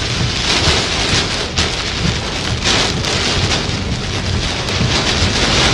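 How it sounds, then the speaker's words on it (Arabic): Heavy rain with hail and strong wind lashes Fujairah in the UAE, a loud, dense, unbroken downpour roar with gusty texture and scattered sharp impacts, no talking. "تشهد الإمارات هطول أمطار غزيرة يصاحبها برد ورياح نشطة"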